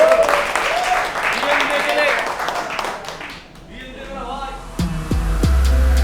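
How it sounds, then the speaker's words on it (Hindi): An audience at a live desi rap battle claps, a dense, loud burst that fades around the middle, after which a beat with heavy bass thumps kicks in and voices carry over it. "मचाओ यार, ताली बजाओ थोड़ी"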